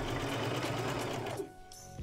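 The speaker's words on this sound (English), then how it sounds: "Then you use your reverse on the side. You can lock it in and then keep sewing." A sewing machine stitching through fabric, a steady fast mechanical whir and needle clatter close up that runs continuously, then stops near the end.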